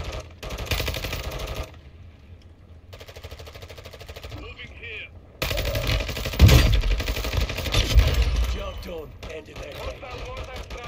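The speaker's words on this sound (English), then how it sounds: "Grenade launcher guys shooting grenades." Grenade launcher fire and explosions in the Warzone 2 Resurgence battle royale, a loud, dense run of bursts and booms mixed with other gunfire, growing heavier partway through and rumbling on under a busy in-game soundscape.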